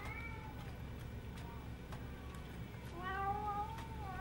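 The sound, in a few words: cat meowing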